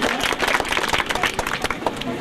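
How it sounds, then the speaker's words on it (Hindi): Dense, continuous applause from an audience at a prize distribution ceremony, many hands clapping loudly and close throughout the short stretch. "एक बार जोरदार तालियां के लिए।"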